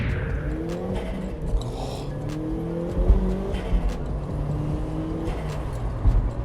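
A turbocharged Mk1 Mazda MX-5 drives along, its steady engine drone and road noise continuous and fairly close, with slight surges in intensity and no one speaking.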